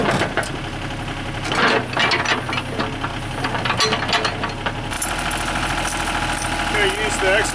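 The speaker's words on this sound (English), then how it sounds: "Use the excavator to pick up the old track" A Komatsu PC30-3 mini excavator's diesel engine runs steadily nearby with a low rumbling idle and knocking clatter, rising in intensity toward the end, while a voice talks over it.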